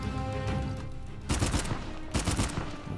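Sniper rifle fire in Uncharted 4 cracks out in two loud, sharp bursts over a rumbling background, each shot followed by a brief echoing tail.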